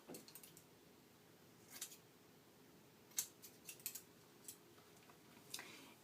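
Scissors trimming long hair at home give a few faint, quick snips, spaced irregularly over a quiet room hiss, close but soft, with no talking.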